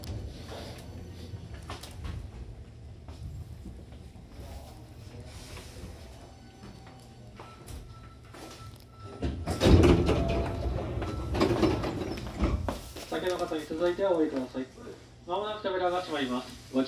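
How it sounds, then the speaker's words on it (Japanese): Sliding doors of a Hankyu Kyoto Line train closing at Juso Station, a mechanical rumble and thud amid station noise, followed by a chime-like tone and a recorded announcement voice. "扉が閉まります。ご注意ください。"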